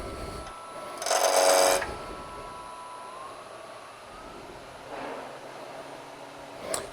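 A wood-turning gouge cuts a salt shaker spinning on a lathe, making one short, loud rasping scrape that fades into the steady hum of the motor, with a fainter scrape near the end.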